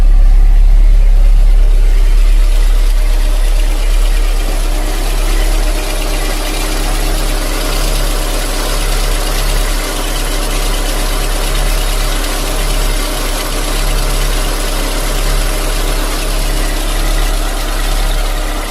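A Mercedes 190E 2.5-16 Evo 2, recently serviced, idles smoothly and steadily up close, a loud, even engine drone that holds for the whole stretch with no voices over it.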